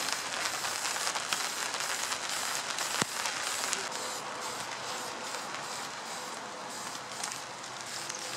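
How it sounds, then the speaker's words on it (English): Steady rain pours in a dense, even hiss, with a single sharp click partway through; no voices. "Because it's raining."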